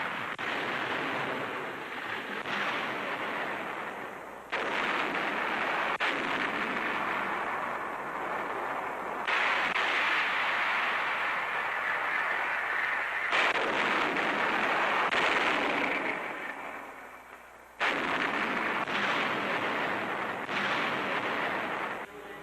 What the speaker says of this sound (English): The barrage begins.